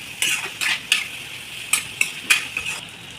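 Spices frying in a pan for egg masala, stirred with a metal spoon in about seven short scraping bursts over a soft sizzle, close and quiet, without speech.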